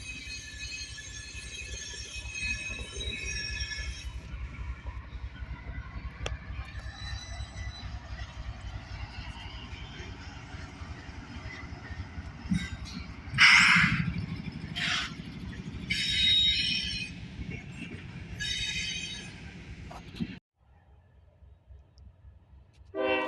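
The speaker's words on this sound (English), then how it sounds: "This time was a CSX empty coal train with a CSX Tier 4 leading solo." A CSX empty coal train led by a single CSX Tier 4 locomotive rumbles past steadily, with a couple of short horn blasts and wheel squeal rising midway before the sound cuts off.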